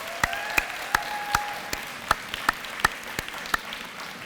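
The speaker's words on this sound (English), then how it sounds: "if we can give the round of applause for our families and guests" Guests at a nursing school pinning ceremony applaud, with distinct sharp claps standing out roughly every half second over a softer crowd background and a faint sustained tone.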